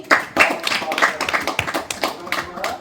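Children clapping their hands during a Christmas skit: a short burst of brisk, uneven clapping, close and fairly loud, with voices mixed in underneath.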